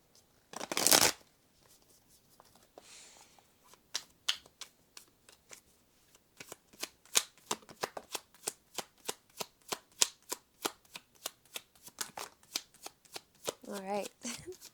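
Tarot cards are shuffled in a long run of quick, crisp riffling clicks that grow denser and louder, preceded by a single brief burst of noise.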